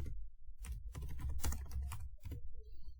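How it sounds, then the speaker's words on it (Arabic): A computer keyboard typed in quick bursts of close, crisp key clicks with short pauses between runs, entering a project title, with no talking. "بعد كده هنبدأ نكتب في المكان ده اللي هو عنوان المشروع بتاعنا"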